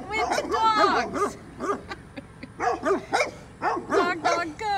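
Mountain dogs in an outdoor setting with goats nearby, barking repeatedly in short yelping bursts at close-to-middle distance, some overlapping, with uneven pauses between volleys.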